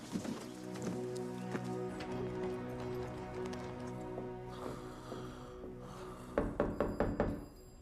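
A few hoofbeats clop in a quick cluster near the end, following a stretch of sustained tonal music.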